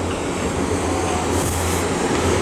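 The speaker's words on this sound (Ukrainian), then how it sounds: "Ото той чіповський поїзд, дешевий." A cheap cash-only train in Tokyo passes with a steady, fairly loud rumble and rolling hiss that holds through the short stretch, with no talk over it.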